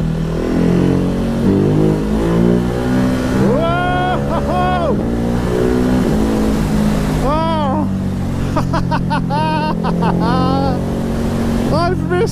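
A 2020 Ducati Hypermotard 950 SP motorcycle accelerating hard, doing wheelies over crests on a wet road, its engine note climbing through the gears in steady rising sweeps, loud and close under wind noise, with a rider's voice over it.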